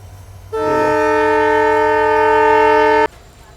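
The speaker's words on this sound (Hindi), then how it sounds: "चलो गजनेर रेलवे स्टेशन से अपनी ट्रेन निकल रही है" A train departing Gajner railway station in the Thar Desert sounds a single loud, steady horn blast lasting about two and a half seconds, rich and chord-like, over a low rumbling background that continues after it cuts off.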